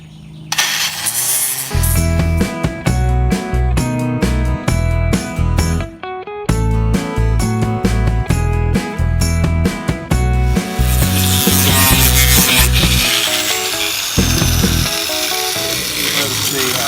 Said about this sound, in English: Let me go see if I can find my angle grinder